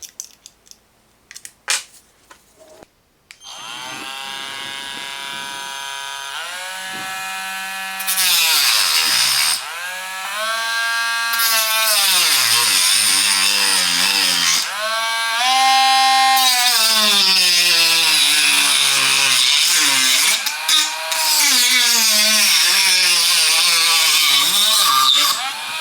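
A Parkside 12V cordless rotary tool, model PFBS 12 C7, runs close up after a few clicks, its high whine holding steady, then dipping and rising repeatedly as the speed changes or the bit meets load.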